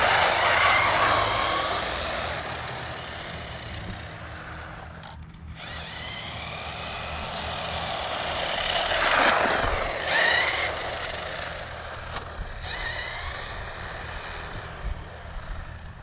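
A Suchiyu SCY 16101 Pro RC car running at medium speed, its electric motor giving a steady, fairly loud high whine that swells and dips over about sixteen seconds, with brief drops in between.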